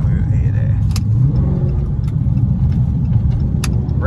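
A Dodge SRT 392 engine rumbles low and steady from inside the car while driving, with a deep throbbing drone and occasional clicks, as someone talks over it.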